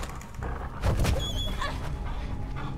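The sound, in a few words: dog barking in the video game Beyond Two Souls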